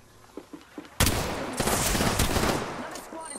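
Video game gunfire in Apex Legends from an R-99 and a Mastiff. A few soft taps come first, then a loud burst of fire erupts and keeps going as a dense, sustained barrage before trailing off slightly.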